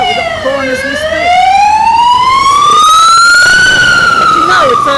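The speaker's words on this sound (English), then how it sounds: "But you know, it's an ambulance." An ambulance siren wails close and loud, a rising and falling tone sweeping continuously over road traffic noise.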